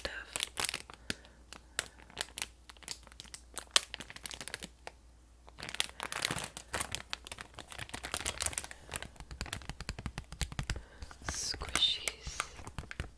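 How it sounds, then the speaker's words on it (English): Squishy toy packaging crinkles and tears in close, soft bursts, with brief quiet gaps between handling, under a whispered voice. "the crinkles are really loud"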